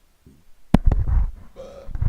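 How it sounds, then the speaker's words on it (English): A single short, low throaty burp sounds close to the microphone in an indoor setting, followed by brief rustling and a faint tone. "Excuse me, I had to burp."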